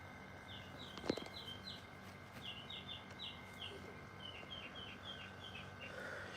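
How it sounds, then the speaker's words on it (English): Birds chirping outdoors in short repeated high calls, a steady string of quick chirps at moderate distance over faint background hum, with one brief louder knock early on. "You hear the birds chirping."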